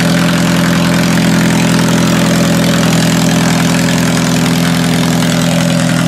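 A demolition derby car's engine idles steadily after starting on a new battery, a loud, continuous low rumble with no talk over it.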